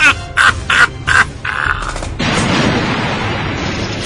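Battle sounds in an audio drama: several sharp bursts of gunfire in quick succession, followed by a heavy rocket-launcher blast that leaves a loud, rumbling roar continuing to the end.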